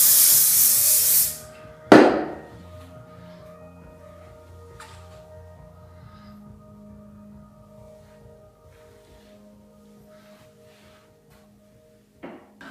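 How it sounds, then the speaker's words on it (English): A loud aerosol hairspray hisses onto hair for about a second, followed by a knock and quiet rustling, then a second brief hiss near the end. "And then you're just gonna spray a little bit more."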